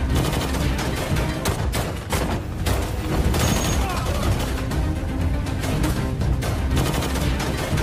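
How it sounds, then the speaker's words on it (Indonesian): A film scene of thugs opening fire with guns: dense, loud fusillades of rapid shots and bangs over a heavy low rumble of music and effects, continuous through the scene, with voices mixed in. "Mereka langsung memborondong Nick dengan senjata yang ia miliki."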